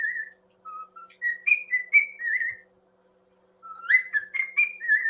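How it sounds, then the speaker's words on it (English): A cockatiel whistles the tune Yankee Doodle in short clear phrases, pausing briefly for about a second before resuming the melody, close and fairly loud. "back to our whistling cockatiel"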